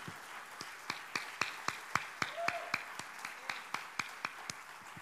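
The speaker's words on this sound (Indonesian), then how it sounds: "Bangkit, beri tepuk tangan Tuhan lebih banyak" A seated church congregation at a Sunday service breaks into sustained applause, with strong regular claps ringing out in a steady pulse over softer scattered clapping, filling the room for several seconds.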